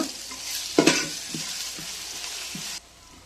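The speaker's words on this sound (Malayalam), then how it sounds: "എണ്ണ ഒഴിച്ചു, കുറച്ച് ഉള്ളി ഇട്ടു, കുറച്ച് ഉപ്പും കൂടി ചേർത്തിട്ട് നന്നായിട്ട് വഴറ്റിയെടുക്കുക." Onion, ginger and garlic sauté in hot oil with a steady close sizzle, broken by several stirring scrapes and one louder clatter early on, before the frying noise cuts off abruptly near the end.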